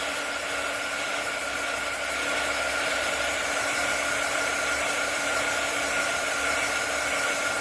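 Steady, loud whooshing blow of a heat tool drying embossed polymer clay, a continuous airy roar with a faint hum running through all of it and no talk.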